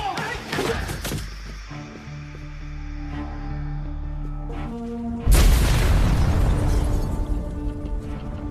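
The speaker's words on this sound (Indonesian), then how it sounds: "Maria berhasil meledakkan pabrik narkoboy milik Ricardo" A drug factory blows up in an action film: a deep, loud boom bursts in partway through and then rolls on as a heavy, sustained roar over an already rumbling, tense background.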